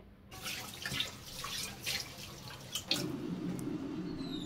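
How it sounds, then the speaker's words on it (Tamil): Water splashes and trickles into spice containers in a kitchen, in short irregular bursts and drips close by, with a steadier low running flow joining toward the end. "தண்ணி தெளித்து கொஞ்சம் நேரம் ஊற வச்சிட்டேன்"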